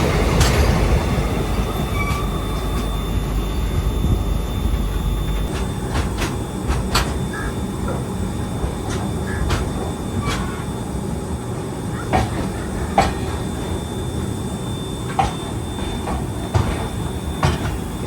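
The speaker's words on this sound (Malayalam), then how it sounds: "നമ്മളെ പുറകിടുന്ന ഗുഡ്സ് ട്രെയിൻ പറപ്പിച്ച് വരുന്നുണ്ടോ" A goods train hauling Bharat Cement wagons rolls past with a steady heavy rumble, repeated wheel clicks over rail joints and faint squeals, continuous and close throughout.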